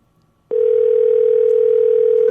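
A telephone line gives a steady electronic ringing tone that starts abruptly and holds at an even, loud level for nearly two seconds, with no voices over it.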